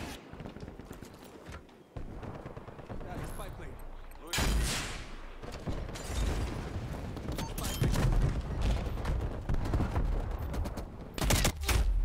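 Gunfire in Call of Duty Black Ops Cold War, with sharp bursts of automatic shots and single cracks coming in clusters and separated by short pauses, loud and close, while a player talks over some of it.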